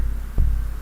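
Low techno kick drum with heavy sub bass, two deep soft-attack hits about half a second apart over a steady low hum, no voices.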